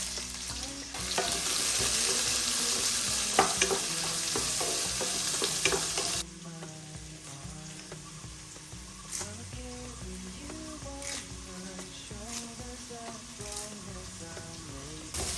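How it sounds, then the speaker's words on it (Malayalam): Mustard seeds, green chilies, onion and ginger frying in hot oil, a steady loud sizzle with stirring scrapes that drops to quieter crackling and spoon clinks partway through, no voices. "എന്തായാലും പച്ചമുളകും സവോളയും ഇഞ്ചി ഇട്ടുവിട്ടാ കടുക് പൊട്ടിച്ചു"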